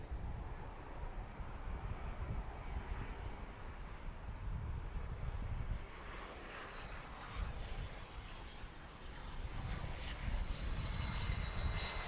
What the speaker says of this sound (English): It's Delta 717 landing on runway 31.